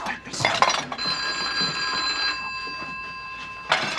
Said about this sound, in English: we should answer the phone.